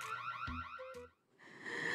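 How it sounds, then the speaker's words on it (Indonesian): An electronic alarm wails with rising, warbling siren tones, then pauses briefly before a steady high tone resumes; heard from a short distance, no talk. "ada alarm yang berbunyi"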